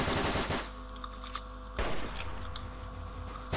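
Rapid automatic gunfire in the Roblox shooter Mad Paintball 2, loud, dense bursts of shots that run continuously with a brief break near the middle.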